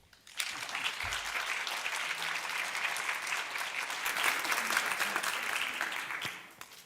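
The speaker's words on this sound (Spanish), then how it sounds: "Un aplauso." Audience applause fills a book panel on Basque noir thrillers, a dense steady clapping that starts abruptly, holds strong for about six seconds and tapers off at the end.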